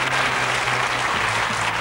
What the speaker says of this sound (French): on l'applaudit, on l'encourage s'il vous plaît